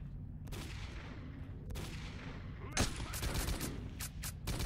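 Sniper gunfire in S.T.A.L.K.E.R.: Call of Pripyat: several sharp, loud shots crack at irregular intervals, one especially strong burst near the middle, over a steady rumbling game background.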